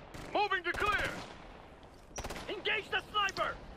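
Gunfire in the video game Ghost Recon: Future Soldier, with a sniper involved: short bursts of rapid, sharp shots in two clusters, mixed in with someone talking.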